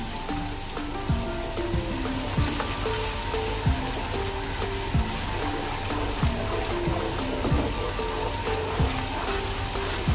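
Steady crackling sizzle as yogurt goes a little at a time into hot mutton paya (goat trotter) curry, continuous and close over a faint melodic background.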